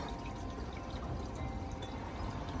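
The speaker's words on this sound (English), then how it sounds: "Just as I popped in, the water's starting to kick in." Water from a pumped garden bird bath water feature trickles and splashes steadily and softly, with a continuous bubbling flow and no voices.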